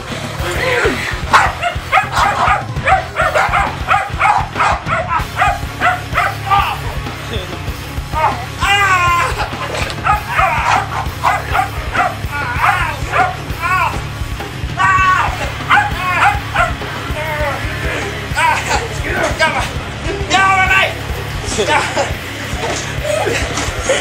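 A dog barks and yips repeatedly at close range during rough play-fighting, sharp high yelps and bow-wows coming in quick bursts throughout, mixed with people shouting and talking over the commotion.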